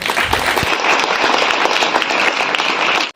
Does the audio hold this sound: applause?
yes